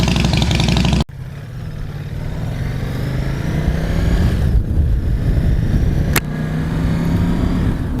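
A 2020 Ducati Multistrada 950 S engine pulls steadily while riding, a loud continuous mid-range drone with rising pitch as it accelerates, wind rushing over it and a brief dip near the start.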